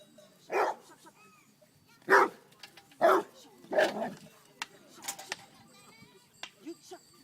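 A large sheepdog barks in sharp, spaced bursts at a Swiss herding trial, a handful of loud barks over the first four seconds followed by fainter yips, while a handler calls commands nearby.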